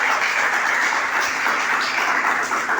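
A church congregation claps and applauds in praise to God during a Spanish-language sermon, a steady dense wash of clapping that fills the whole moment without any talk over it.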